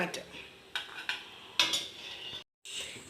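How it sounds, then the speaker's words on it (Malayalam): Cashews roasting in hot ghee for a chana dal and banana payasam, with a spoon scraping and clinking against the pan in several separate strokes over a faint sizzle. "ഇനി ഇതിലേക്ക് കുറച്ച് കാഷ്നട്ട് ഇട്ട് കൊടുക്കാം അതും നമുക്ക് റോസ്റ്റ് ചെയ്തെടുക്കാം"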